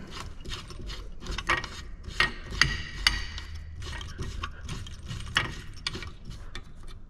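A part is screwed onto a Big Jon manual downrigger reel, producing close ratcheting clicks, scraping and mechanical grinding in short irregular bursts, with no voice.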